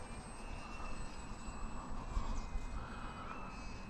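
Small battery-powered RC model plane flying overhead in straight and level flight, a steady whining electric motor drone with a faint high tone, fairly quiet and continuous throughout with no talk.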